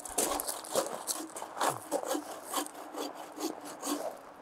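Rhythmic back-and-forth rasping of a hand saw cutting through wood, close and steady, with repeated strokes and no talking.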